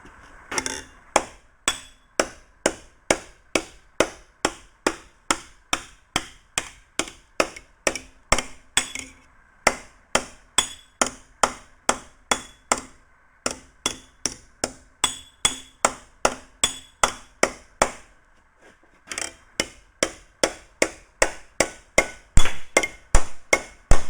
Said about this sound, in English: switch over to this high crown face right here and do a little more stretching with a steel hammer